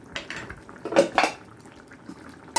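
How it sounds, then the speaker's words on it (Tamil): A metal lid clinks and clatters onto a cooking pot of palak chicken curry, a few sharp knocks close by with a final tap at the end and no talking. "அதெல்லாம் மூடி வச்சு மூடுவோம்"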